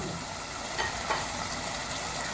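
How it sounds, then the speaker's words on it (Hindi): Mutton masala fries hard over a high flame, giving a steady, close broadband sizzle with a couple of faint stirring knocks and no voices. "गोश्त को हमने हाई फ्लेम पे भून लिया अच्छी तरह से"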